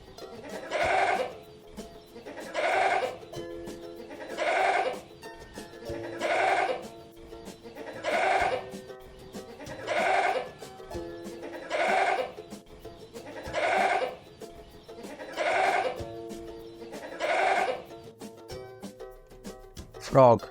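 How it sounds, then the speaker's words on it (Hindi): A goat bleats again and again, ten loud, evenly spaced calls about two seconds apart. Each bleat is a wavering, nasal cry that stands alone with no talk around it. "गोट माने बकरा।"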